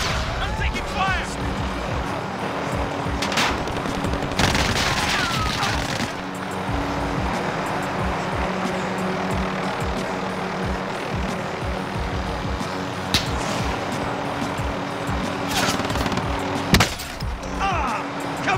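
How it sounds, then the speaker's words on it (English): Gunfire and aircraft engine drone in a battle royale video game, with shots cracking intermittently over a steady mechanical hum and a voice talking. "I'm taking fire."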